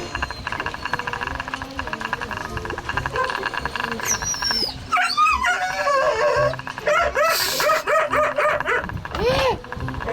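A dog barks and yelps repeatedly, close and loud, with whiny high-pitched cries mixed in over a noisy background.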